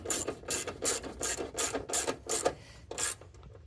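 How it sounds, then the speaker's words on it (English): Rhythmic ratcheting as a wrench loosens bolts on a Honda Accord, about eight evenly spaced rasping clicks, close and fairly quiet with no talk. "Loosen up the bolts."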